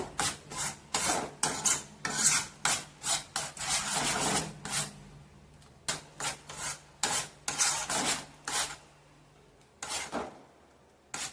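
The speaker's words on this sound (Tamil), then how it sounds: "அடி பிடிக்காம அப்பப்போ கிண்டி விட்டுக்கிட்டே இருங்க" A spoon scrapes through a thickening mango mixture in a pan in close, repeated rasping strokes, some quick and clustered and some spaced apart, with no talking.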